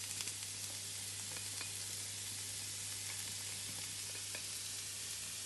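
Onion sweating in hot oil in a pan for chicken mini pastilla, a steady soft sizzle with a few faint crackles, close and quiet, with no talking.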